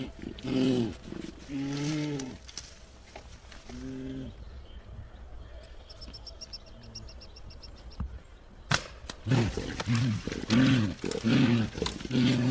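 A frightened bear caught in a poachers' steel jaw trap gives loud, repeated roaring groans in bursts, a quieter stretch in the middle, then a run of close, harsh vocalisations toward the end.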